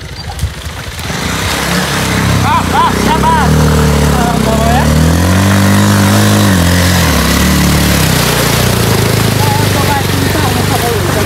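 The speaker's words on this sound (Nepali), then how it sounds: "भाइले मेरो बाइक ल्याउँदैछ" A motorcycle engine drones and revs while the bike is pushed through floodwater, a continuous loud rumble with shifting pitch, overlaid by a voice talking throughout.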